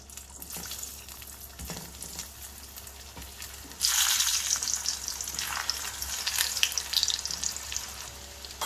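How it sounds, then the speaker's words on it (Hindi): Pressed taro pieces for Sindhi arbi tuk fry a second time in hot oil over a high flame, a steady soft crackle that swells louder and busier partway through and keeps bubbling to the end. "गैस मैंने बंद नहीं किया था, तो वापस से इन्हें फ्राई कर लेते हैं।"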